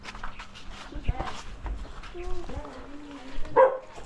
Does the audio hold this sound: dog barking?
yes